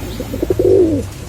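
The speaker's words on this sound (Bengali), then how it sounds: "চীনা কবুতর যে দুই পেয়ার দেখাচ্ছি" A Chinese teddy pigeon gives one close, clear coo: a few soft pulses that swell into a longer rolling note.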